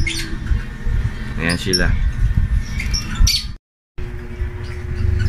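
Birds in a mixed-mutation flight cage squawk and chirp in brief bursts over a busy background, while a person talks nearby.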